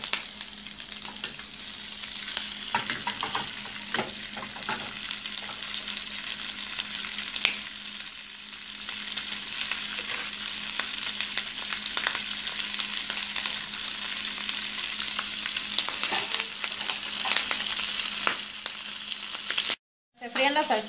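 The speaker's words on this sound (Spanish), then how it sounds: "Se fríen las salchichas" Sausages for homemade hot dogs frying in oil in a pan, giving a continuous close sizzle with scattered crackles and pops, and a brief dropout near the end.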